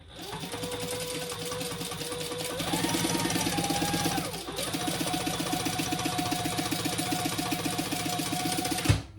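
A sewing machine runs steadily through cotton fabric for a tote bag, its fast rhythmic stitching close and continuous, with one brief pause and change in speed midway.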